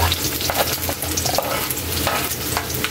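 Ginger hits sautéing onions in a pan for escabeche. A loud close sizzle of frying continues throughout, with the scrape and clatter of stirring.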